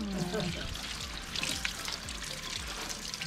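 Water pours and trickles steadily while organic vegetables are washed at a farm packing area, a soft continuous splashing flow with a faint low hum beneath it.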